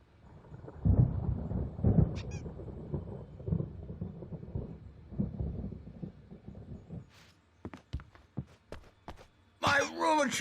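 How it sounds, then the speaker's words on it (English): Thunder rumbles in a storm in the video game Alan Wake, with low booms early on and then sharp, scattered cracks and thuds. "There's a storm coming. Oh, what a storm."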